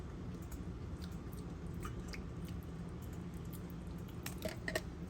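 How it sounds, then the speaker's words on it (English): Someone tasting butter chicken marinade while cooking, with soft close chewing and squishing sounds over a low steady background hum, a few small clicks and smacks near the end. "Let me just taste."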